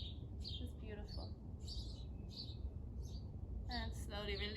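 Birds singing outdoors during an outdoor yoga session, bright chirps and tweets repeating at moderate distance over a steady background hiss.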